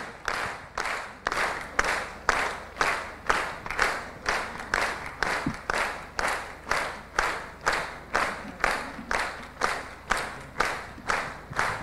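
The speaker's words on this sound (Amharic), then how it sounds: "ጭብጨባው እየቀነሰ ነው።" At a student quiz competition, an audience claps in steady rhythmic unison, about two claps per second, sustained and evenly paced throughout.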